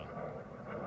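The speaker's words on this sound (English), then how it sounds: "Oh, here comes a jet." A jet of the Japanese Self-Defense Force flies over near a home, heard as a brief, broad, steady roar with no talk over it.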